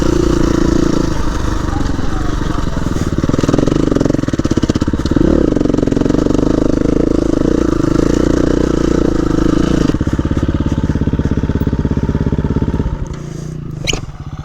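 A KTM 350 EXC-F dirt bike being ridden off-road at El Mirage, its engine droning loudly and steadily close up, with rattling and clatter, before easing off near the end.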